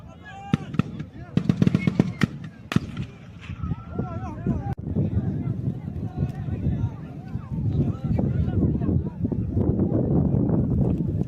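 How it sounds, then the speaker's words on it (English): Gunfire in a crowded outdoor place where food is being handed out, with sharp cracking bursts and rapid repeated shots over shouting voices and steady crowd noise. "then they start shooting at them"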